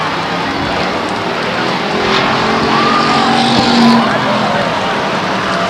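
A race car spins out during a stock car race at Stockton 99 Speedway, with a loud, steady roar of engines and faint tire squeal under crowd and track noise.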